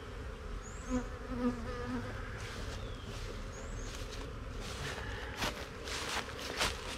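Honeybees buzz steadily around an open, queen-right hive full of young larvae, a close continuous drone with individual bees flying past, joined by light handling and shuffling sounds.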